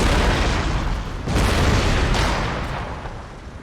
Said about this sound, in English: I think there's like a phosphorus round or something in some of these mortar shells